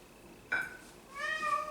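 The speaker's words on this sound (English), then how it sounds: "Now, my cat is going wild." A house cat gives two short meows nearby in a kitchen where a porterhouse steak is being prepared, the second meow rising and more drawn out against a quiet background.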